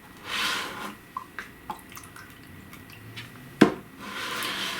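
Water from a bottle splashes into the small pans of a portable watercolor palette: a few soft drips and trickles, one sharp clack, and gentle rushing bursts at the start and end, close and quiet.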